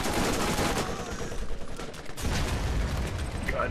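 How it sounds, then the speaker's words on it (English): Rapid, continuous automatic gunfire from the video game Borderlands, loud and close, forms a dense, unbroken rattle of shots with a brief dip midway. "There's a guy right over here that I'm shooting at."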